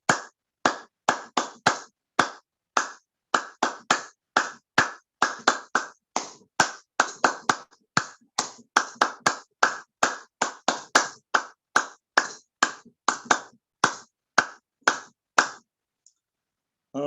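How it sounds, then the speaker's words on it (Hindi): Hands clap crisply in a steady rhythm throughout a morning yoga exercise, dozens of loud separate claps close by, speeding up slightly in the middle and stopping near the end, with no talking. "ताली वादन करेंगे।"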